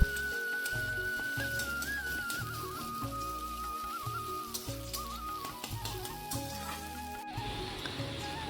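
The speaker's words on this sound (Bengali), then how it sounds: "এখানে ডিমটা আমি ভেজে নিচ্ছি" An egg fries in a pan with a continuous soft sizzle and crackle, fairly quiet and close, mixed with occasional faint kitchen clatter and a brief change near the end.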